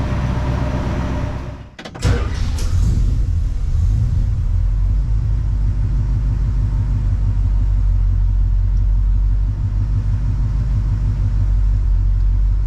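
A 1969 Plymouth Fury III engine runs on a test drive, a loud, steady low rumble heard close from inside the car, broken by a brief clunk and dip near the start before the drone resumes.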